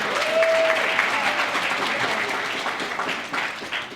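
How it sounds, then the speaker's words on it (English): Applause for a summer staff member at a youth leadership academy awards ceremony, a full, steady crowd clapping that stays loud throughout and thins slightly toward the end, with a brief tone heard early on. "If you could give him a round of applause."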